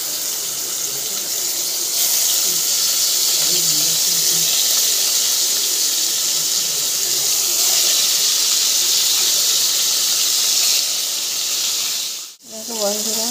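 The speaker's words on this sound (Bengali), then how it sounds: "ভাজার জন্য মাছগুলো আমি কড়াইতে দিলাম।" Salted, turmeric-rubbed rohu fish fry in hot oil in a wok, giving a loud, steady hiss of sizzling that continues without a break and dips briefly near the end.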